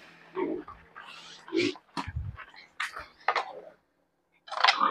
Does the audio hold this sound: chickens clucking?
no